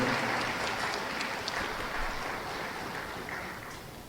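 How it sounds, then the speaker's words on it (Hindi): A large audience at a public event in Bhopal applauds to welcome the chief minister, a steady, distant wash of clapping that blurs into a roaring hiss and fades slightly toward the end. "एक बार जोरदार तालियों से माननीय मुख्यमंत्री महोदय का स्वागत अभिनंदन करें।"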